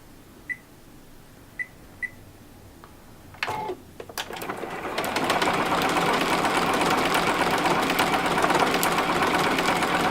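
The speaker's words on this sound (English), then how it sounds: "I'm just letting the machine move the fabric for me." A sewing machine works a decorative feather stitch, feeding the fabric by itself: a few faint beeps and clicks first, then the motor starts and runs in a steady, rapid mechanical chatter, close and loud.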